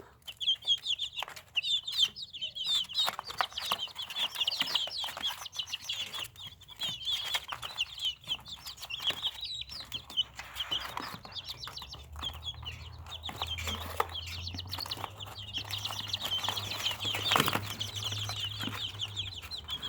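Broiler chickens in a coop cluck and chirp continuously, with bursts of wing flapping as birds fly up to a wooden perch. A low hum joins midway.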